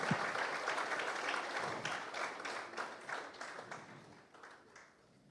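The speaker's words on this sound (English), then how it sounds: "deserves a good round of thundering applause once again" An audience at a state-day ceremony applauds as a crowd, a dense rolling patter of many hands at moderate distance that gradually fades out.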